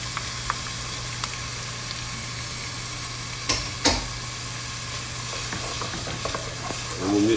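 Risotto with sun-dried tomato and olive oil sautéing in a pan, a steady close sizzle with stirring scrapes and a few louder clatters midway, no voices.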